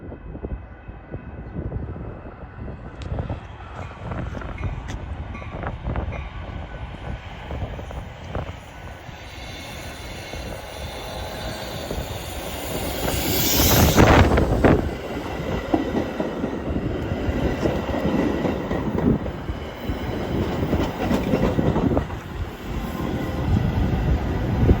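A fully wrapped holiday-decorated Metra Union Pacific train pulls into Wilmette Station with a steady rumble and clickety-clack of wheels, growing louder mid-way as it passes close, then holding a broad rolling roar.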